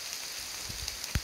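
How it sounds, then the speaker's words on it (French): Rain falls in a forest as a steady, soft hiss with scattered drops tapping nearby, one heavier thud near the end; fairly faint overall with no talking. "j'ai l'impression qu'il pleut de plus en plus"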